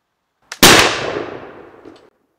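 A Miroku reproduction Charleville Mle 1766 flintlock musket fires outdoors: a brief priming flash is followed almost instantly by a sharp, loud main blast that rolls away in a long, fading echo.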